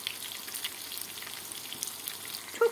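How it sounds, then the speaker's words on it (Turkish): Eggplant slices frying in a pan of oil: a steady, fine crackling sizzle close by, with a brief clink near the end. "Kalan patlıcanları da aynı şekilde kızartacağım."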